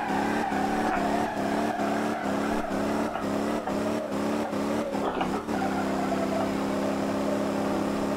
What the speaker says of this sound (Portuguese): Limousine fazendo drift.